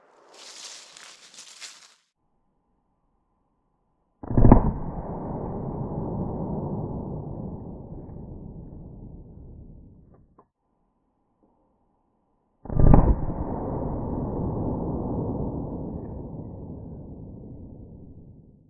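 Two loud .357 Magnum gunshots from Freedom Munitions X-DEF defensive ammunition, roughly eight seconds apart. Each is a sharp crack followed by a long, rolling, reverberant decay, with no talk.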